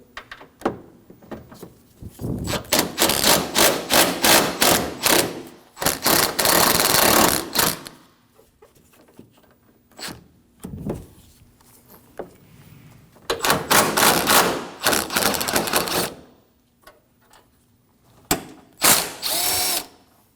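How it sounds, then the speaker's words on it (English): A ratchet with a 10mm swivel socket loosens the 10mm bolts of a 2016-2022 Honda Pilot upper grille core support, giving repeated loud, fast clicking bursts of a few seconds each, separated by short pauses, with no talking. "We'll remove the three 10mm bolts at either end of our core support using a 10mm. I'll be using a swivel socket."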